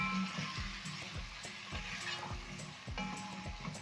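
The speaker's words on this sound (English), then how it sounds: "Add in some carrots and potatoes." Carrots and potatoes are stirred into tomato sauce with salt and seasoning cubes in a pot, producing soft sizzling with repeated scraping, clinking strokes at a steady rhythm.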